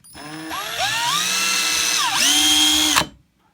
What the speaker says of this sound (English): excuse me while I drill here.